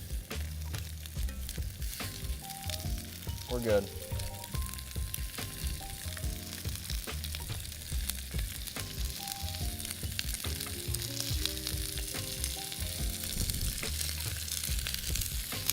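Shrimp scampi sizzles and fries steadily in a frying pan, a constant close crackle with occasional stirring clatter, while a voice speaks briefly and quiet music plays beneath.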